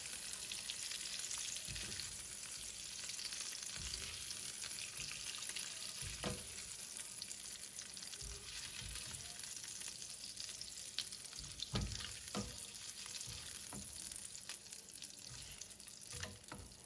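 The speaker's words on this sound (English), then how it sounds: "fry my eggs in that because that is all the juices and flavors of the shrimp" Eggs sizzle steadily in oil in an unwashed pan used for shrimp fried rice, a continuous frying hiss with occasional utensil clinks and stirring sounds, no talking.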